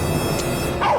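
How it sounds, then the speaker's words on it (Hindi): A dog barks a few times at close range, short sharp yips over a busy background with music or room noise throughout. "क्यों भौंक रहा है?"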